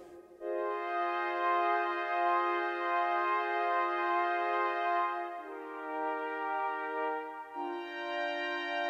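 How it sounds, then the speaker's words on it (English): Lofi piano patch on a Novation Circuit Tracks played as a pad with a slow attack, sustained chords swelling in softly and shifting to new harmonies twice, clean and alone. "if you want to use it as a pad sound, I added an attack in the first knob, so you can make it sound like this."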